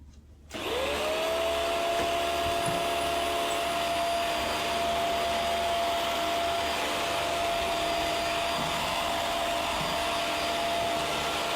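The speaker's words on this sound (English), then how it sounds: "do you mind if I turn the vacuum on?" A household vacuum cleaner switches on and runs steadily indoors, its motor rising quickly to a loud, constant whine and hum that continues unbroken with no talking.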